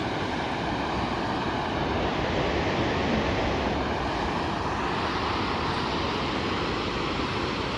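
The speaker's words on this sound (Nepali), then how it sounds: "खोला हेरिहाल्नुहोस् न साथीहरू।" A mountain river in North Sikkim near Chungthang rushes in a steady, dense roar throughout, with no voices and a faint windy hiss over the flow.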